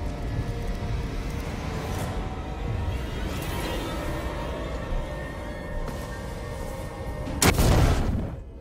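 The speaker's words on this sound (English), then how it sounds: "Okay, explosion." Low rumbling booms and background noise build to a loud, sudden explosion near the end, followed by a fading roar, in the video game Alien: Isolation.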